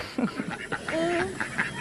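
Ducks around a small pool give a string of nasal quacks and honk-like calls at close range, irregular and overlapping.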